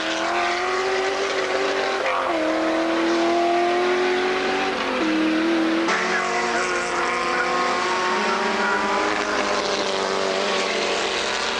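Racing cars, a Lotus Elan and a TVR 420, pass one after another on a circuit, their engines loud and continuous with pitch shifts as each car goes by.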